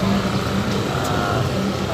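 A motorized tricycle driving in Ilaya, Tondo, in the Philippines, giving a steady, dense engine drone and road rumble for the full two seconds with no break.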